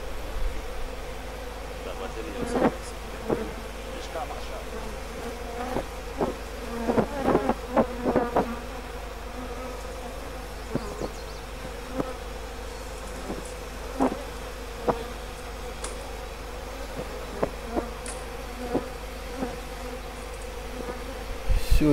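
Honey bees buzz softly around beehive splits outdoors, a constant low insect hum with scattered brief louder passes as bees fly near, over a quiet steady background.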